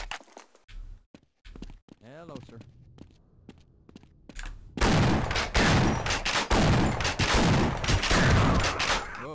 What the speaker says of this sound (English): Ooh, a shotgun.